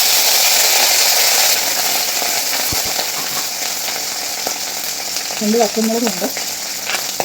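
Mustard seeds splutter and sizzle in hot oil while tempering a padavalanga (snake gourd) curry, a steady close frying hiss with brief spoken words near the end.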